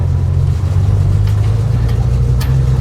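A restored vintage truck on oversized tires drives along, its engine giving a loud, steady low rumble that holds throughout with slight revving swells and no voices.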